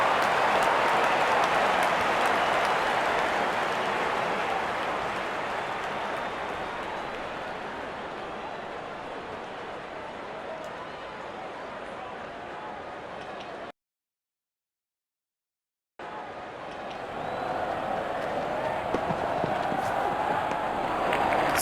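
Crowd in Real Cricket 18 roars and cheers a six, a broad, sustained stadium din that fades, drops out completely for a couple of seconds, then swells back in.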